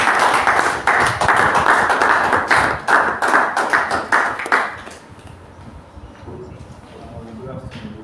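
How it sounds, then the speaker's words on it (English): Audience applause at an academy inauguration convocation ceremony, a dense burst of clapping from a large crowd that lasts about five seconds, then fades to scattered claps and room murmur. "a round of applause."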